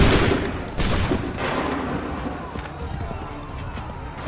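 A musket volley fires in the Assassin's Creed 3 battle, a loud burst of gunfire that is followed by a second crack and then dies away into rumbling battlefield noise.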